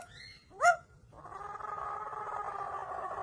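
A pet parrot imitates a dog, giving one quick sharp bark-like yelp and then a sustained, steady nasal tone, close and moderately loud in a quiet room.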